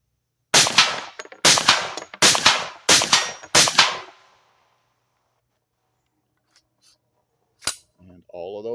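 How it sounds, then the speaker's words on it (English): Five sharp gunshots from a 10mm Bear Creek pistol fired in rapid succession, loud and close, evenly spaced over about four seconds, followed by near silence, a faint click and the start of a voice. "We'll load these 5, and then we'll do a rapid fire with it."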